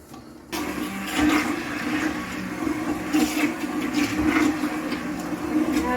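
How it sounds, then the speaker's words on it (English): An immersion blender whirs steadily through chunky homemade barbecue sauce, starting abruptly after a brief quiet moment and running close and continuous with slight surges as it churns. "I'm gonna run my immersion blender through it and try to smooth it up"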